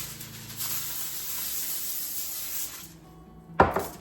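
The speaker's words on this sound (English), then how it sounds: "we don't want any of this cheese to stick to the aluminum foil. So I'm going to spray that" A continuous hiss of cooking spray from a can onto aluminum foil lasts a few seconds, then stops, followed by a sharp crinkle and tap.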